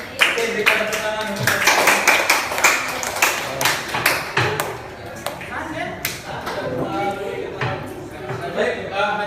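A classroom of students claps after a group presentation, a loose run of uneven, fairly close hand claps with voices talking over parts of it.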